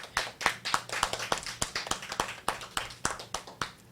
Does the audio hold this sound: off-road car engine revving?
no